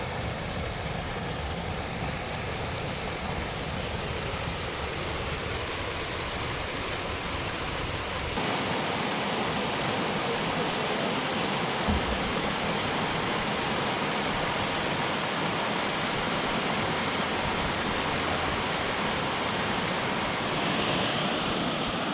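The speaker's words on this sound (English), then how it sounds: "Waterfall over there." A waterfall seen on a hike in British Columbia gives a loud, constant roaring rush of water that shifts slightly in tone partway through and never pauses, with no talking.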